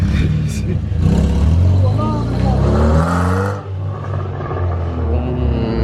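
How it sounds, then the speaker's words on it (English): Nissan 240SX burnout with no silencer: a loud, close engine roar that climbs and rumbles steadily, swelling in the middle before easing a little, with voices faintly underneath. "So, what do you guys think about the burnout?"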